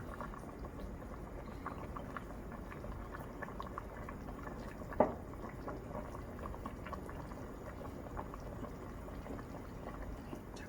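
A pot of tuna and zucchini gochujang stew simmers at a steady low boil, with soft continuous bubbling and one brief clink midway, close and quiet without speech.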